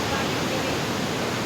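Mindamora Falls roaring up close, a dense, steady rush of falling water filling the whole moment with no break.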